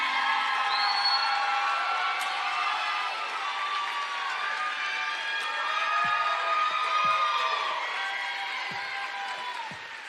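A crowd at a college beauty pageant cheers, whoops and applauds the contestants in a dense, sustained roar with scattered shouts, loud and continuous throughout.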